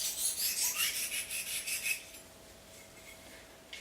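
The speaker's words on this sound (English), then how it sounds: "All we're doing now is polishing the edge. So we're just going from side to side so a burr doesn't form." A knife edge is drawn side to side on a sharpening rod, giving a quick series of light, bright metallic rasping strokes up close for about two seconds, then fading to near quiet with one faint final scrape.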